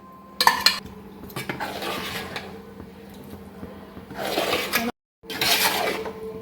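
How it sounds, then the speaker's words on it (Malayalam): A metal spoon scrapes and clinks against a cooking pot as cooked liver is stirred and mixed, in several bursts of clatter with short pauses between them. "ഇനി അതെല്ലാം കൂടി നമുക്ക് മിക്സ് ചെയ്തെടുക്കാം"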